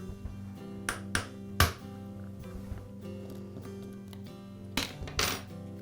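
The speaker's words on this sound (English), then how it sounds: "It's secured with a screw right in the center. I'll go ahead and remove that screw." Small metallic clicks and taps ring out close by as the center screw is removed from the starter pulley of a Poulan chainsaw, a few sharp clinks standing out over a quiet background hum.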